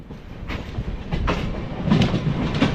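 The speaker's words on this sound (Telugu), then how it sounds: "మనం చెన్నై లోకల్ అయితే వెళ్తుంది పక్కన, లోకల్ ట్రైన్ ఇది" A Chennai local train passes alongside a moving express, its wheels beating a rhythmic clickety-clack over the rails amid a loud, steady rumble heard close by.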